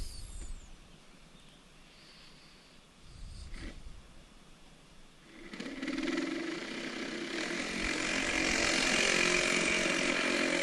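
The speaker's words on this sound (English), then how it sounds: "Luckily, Sawzall solves the problem." A Sawzall reciprocating saw cuts through pipe during basement radiant floor work, a steady buzzing rasp that swells louder and brighter toward the end.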